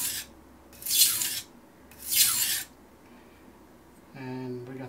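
A kitchen knife is stroked across a Shapton Pro whetstone in two slow, gritty rasping passes, close and fairly quiet, followed by a brief tonal scrape at the end.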